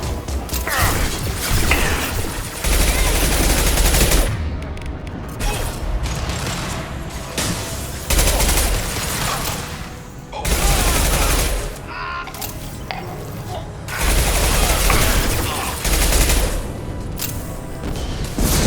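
Heavy combat gunfire in the video game Mass Effect 2, loud bursts of automatic fire and impacts in repeated waves with short lulls between.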